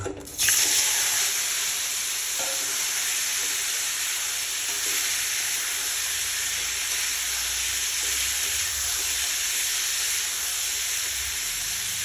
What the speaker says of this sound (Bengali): এইভাবে আলু কাঁচকলাটা আমি ভেজে নিচ্ছি।